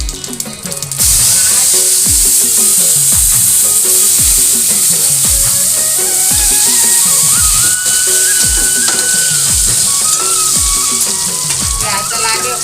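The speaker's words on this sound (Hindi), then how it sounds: "जल्दी से फटाफट फोरन डाल देती हूँ काफ़ी तेल ज़्यादा गर्म हो गई है" Cumin and other spices hit very hot oil and crackle in a loud, steady sizzle, with repeated stirring clanks and a faint whistle rising over the fry.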